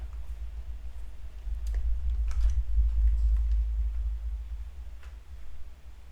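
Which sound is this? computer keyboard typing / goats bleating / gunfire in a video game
computer keyboard typing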